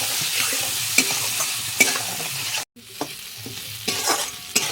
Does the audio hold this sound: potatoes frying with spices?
yes